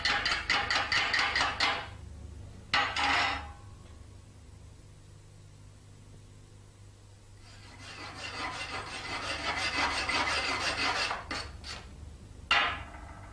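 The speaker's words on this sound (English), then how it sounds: "Eye protection is essential when using the chipping hammer to remove the slag left on the weld" A chipping hammer knocks slag off a fresh electrode weld bead in rapid, rattling bursts of metallic taps, with pauses between the volleys, close and fairly loud.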